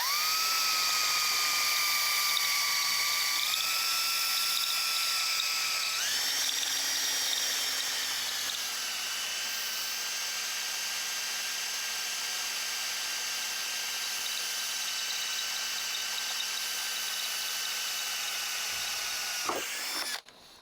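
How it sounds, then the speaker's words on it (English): A power drill boring a small hole in a clamped workpiece while mounting a WEN portable bandsaw to a table top, a steady high whine that shifts pitch a few times before spinning down. "Just drilling me a small hole."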